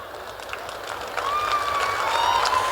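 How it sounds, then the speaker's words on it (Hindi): Steady applause from the audience at a Bhojpuri stand-up comedy show in Garhwa, a dense wash of clapping that grows a little louder halfway through, with a few faint whistles threading over it. "तालियों के लिए धन्यवाद"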